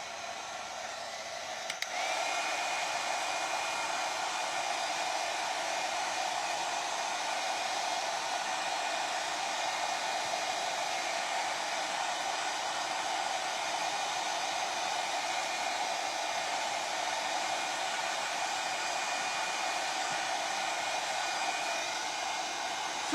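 A hair dryer blows steadily and loudly up close while drying a paper mache egg, a constant breathy roar with a thin whine that continues unbroken after a brief click as it switches on.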